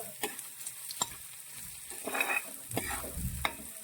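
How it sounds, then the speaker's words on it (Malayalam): Chopped green papaya sautés in oil with ginger, garlic and chili, with soft sizzling and a few distinct stirring clinks and scrapes from a spoon in the pan. "എണ്ണയിൽ കിടന്ന് ഈ പപ്പായയും കൂടി ഇതോടൊപ്പം തന്നെ ഒന്ന് വഴണം"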